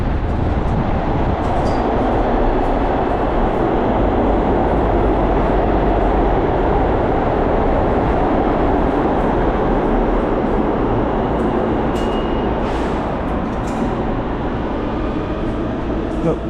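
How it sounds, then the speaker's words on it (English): A subway train rumbles into a station with a steady, loud roar and faint rail rattling, joined by a few high metallic squeals of wheels and brakes near the end. "It appears I just missed a train."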